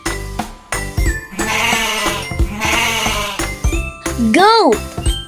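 A goat bleats near and loud in a kids' farm-animal game, a wavering cry following spoken naming, with a small bell jingling around it.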